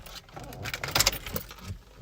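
A short, bright metallic jingle of a 2014 Toyota Hilux's keys shaking close by, lasting a couple of seconds.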